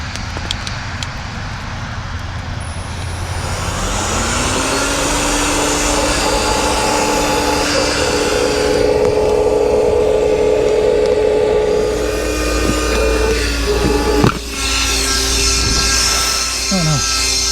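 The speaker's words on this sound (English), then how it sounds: "I'm gonna be so bold as to use my loud air pump" A loud electric air pump inflating camping gear in a small field, a steady droning whine that rises in pitch after a few seconds and runs continuously, with traffic noise in the background and brief bumps near the end.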